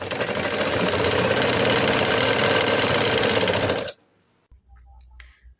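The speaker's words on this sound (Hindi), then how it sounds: "अब इसको इस तरह से पलटाकर सिलाई चला लेना है।" A sewing machine runs steadily while stitching a katori blouse, a loud continuous mechanical whir for about four seconds that stops abruptly, followed by a brief quiet handling noise.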